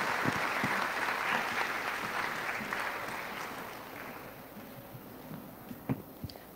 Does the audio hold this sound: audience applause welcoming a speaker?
yes